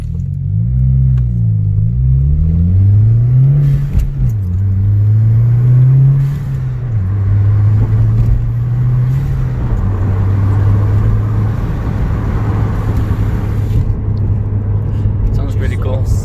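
A car fitted with a new exhaust revs and drives, its deep rumbling engine note rising and falling through several gear changes before settling into a steady drone, with people talking over it.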